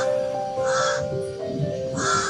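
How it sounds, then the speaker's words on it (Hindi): A crow caws in a dense forest setting, three harsh calls in quick succession, close and clear with nothing else underneath. "एक अनाथ कौवा रहा करता था।"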